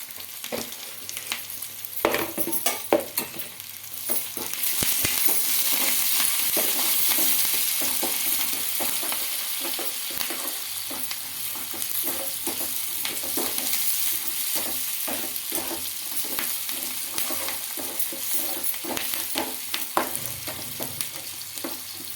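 Urad dal, curry leaves and a dried red chilli fry in hot oil for a pongal tempering, giving a continuous sizzle broken by frequent spoon-stirring clicks and scrapes, close by with no voices.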